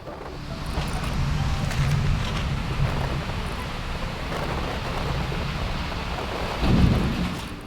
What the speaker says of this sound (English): the sky will just open up and drench it with a bunch of rain.